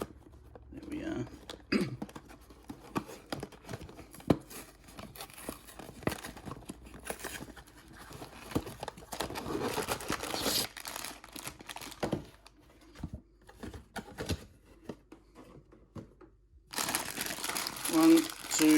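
Cardboard Lego box for the Halloween Owl set 40497 torn open along its rip tab, with crinkly rustling and tearing handling noises, a sharper rip burst near the end, and no talking.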